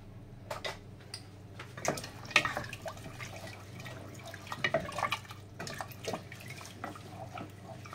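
Water is poured into rava batter for medu vada and stirred in a home kitchen, giving faint, scattered wet drips, splashes and soft clinks over a quiet background.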